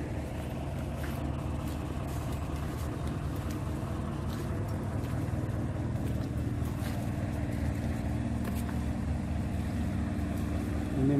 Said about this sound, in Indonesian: Ini mesin untuk membuat batu kep itu